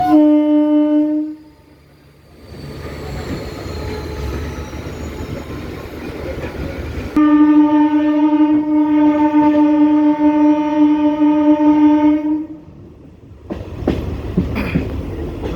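A local train on the South Eastern Railway departs, opening with a loud sustained horn blast, then a rising rumble, then a second long horn, followed by the clatter of the train moving off.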